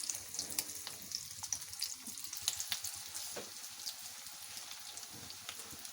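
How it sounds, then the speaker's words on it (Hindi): Chicken nuggets frying in hot oil over low to medium flame, a dense crackling sizzle with rapid popping bubbles, steady and close, no voices. "अब इसमें मैं ये डाल के उसको लो टू मीडियम फ्लेम पर हम इसको फ्राई करेंगे।"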